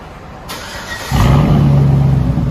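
A loud engine on a family SUV with its muffler cut off, running straight piped, fires up and settles into a deep, steady rumble, close by, with no talking.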